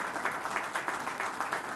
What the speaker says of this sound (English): I guess this applause needs to be more louder.